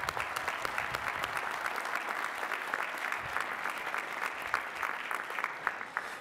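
Sustained applause from a commencement crowd for Bachelor of Science degree recipients at Lehigh University, steady dense clapping throughout with no voices over it.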